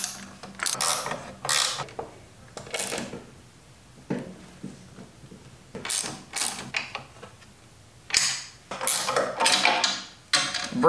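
Ratchet clicking in quick back-and-forth bursts while tightening exhaust bolts on a Honda CRF300L during an aftermarket full exhaust install, close and crisp, repeated runs separated by short pauses.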